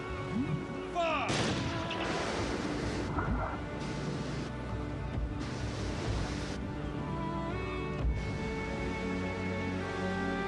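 A ceremonial firing party looses a volley of rifle shots, sharp cracks and booms echoing over a busy layered background of music and effects, with voices heard in between.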